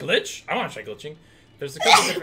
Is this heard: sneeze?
yes